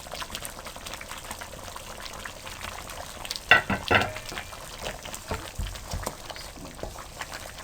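Chicken legs cook in a pot of boiling yogurt water, giving a soft steady bubbling sizzle with brief louder splashes or stirring bursts in the middle, faint and close with no voices.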